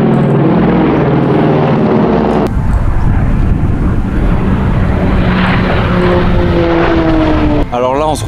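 Second World War propeller fighters such as a Spitfire and P-51 roar loudly overhead at the Temora air show in Australia, engine drone swelling and shifting in pitch as they pass close by, with a voice talking.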